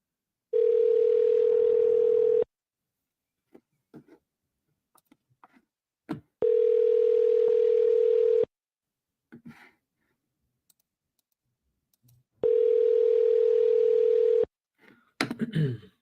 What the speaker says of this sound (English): All right, let's call back.